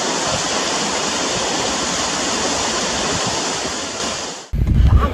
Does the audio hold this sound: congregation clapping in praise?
no